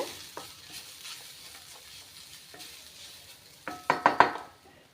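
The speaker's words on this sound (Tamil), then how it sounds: "இந்த பொடி போட்டு நல்லா மிக்ஸ் பண்ணி விட்டுருங்க" Spice powder being stirred into cooked beetroot in a pan for beetroot rice, soft scraping strokes at first, then a cluster of louder sharp spoon-against-pan knocks near the end.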